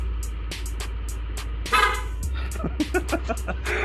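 Short horn toots from a Yamaha NMAX scooter over its low idling engine, a few quick beeps followed by a longer honk, close by.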